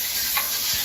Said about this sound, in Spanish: Como veis, se está friendo